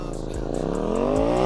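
KTM 790 Duke and Kawasaki Ninja ZX-6R motorcycles rev hard during a moto drift battle, the engine note climbing steadily and growing louder across a short burst of sustained throttle.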